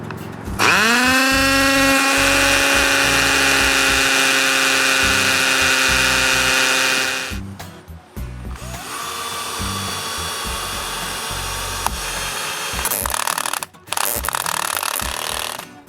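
A power tool, sounding like a drill or impact driver, anchors treated 2x6 lumber to a concrete foundation while building a shop. A loud, steady high whine runs for about seven seconds, followed by shorter buzzing runs and clunks.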